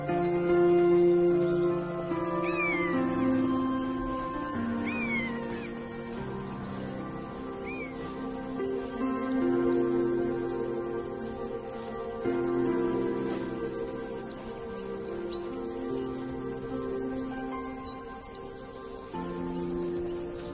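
Grasshoppers chirp continuously in a Spanish meadow, a dense shimmering insect drone with scattered high calls, moderately faint and steady throughout, with no voices.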